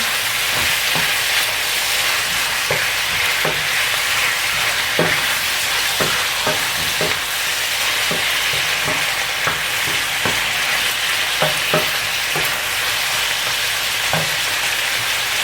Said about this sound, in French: J'ajoute du coriandre. Et je fais revenir.